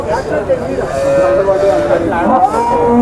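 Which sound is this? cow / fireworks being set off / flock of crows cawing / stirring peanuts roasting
cow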